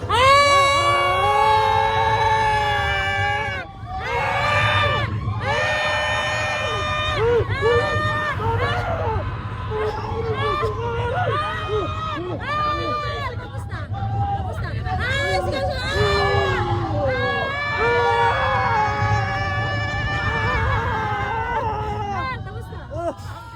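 Loud, high-pitched screams and shouts from several riders on an amusement ride in Hong Kong, rising and falling in long overlapping bursts above a steady low mechanical rumble that runs throughout.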